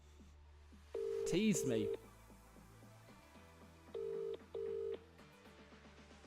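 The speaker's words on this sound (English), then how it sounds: "This is the Vodafone voicemail." Phone call tones connecting to Vodafone voicemail: a few steady, clear beeps at varying lengths with a low hum beneath, and a brief spoken word near the start.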